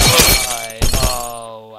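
Glass bottles shatter in the Happy Wheels video game, two loud crashes about half a second apart, each followed by ringing, tinkling shards that fade out.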